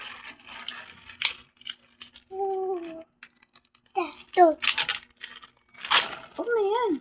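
Scissors cut and tear through the packaging of a long rubber door during an unboxing, giving short crisp snips and crinkles between bursts of nearby talk.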